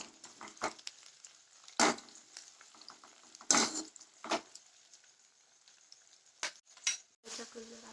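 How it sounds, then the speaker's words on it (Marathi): Onions frying in a pan for pav bhaji, a low crackling hiss broken by several sharp scraping bursts from stirring, close and irregular, with no talk. "आता कांदे ब्राऊन होईपर्यंत त्यांना शिजू द्यायचा."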